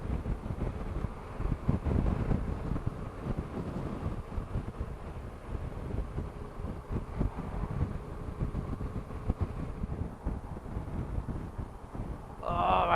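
Strong wind at Carrickfergus buffets the microphone in a continuous low rumble with gusty surges, with indistinct voices and faint traffic mixed in around it.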